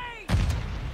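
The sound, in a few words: grenade explosion in Warzone Mobile video game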